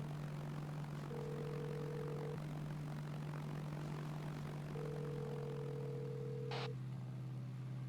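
A propeller airplane engine in a Martinique roleplay video game, on a sightseeing flight over the island, drones steadily and evenly throughout, with two short flat electronic tones and a brief high beep layered on top.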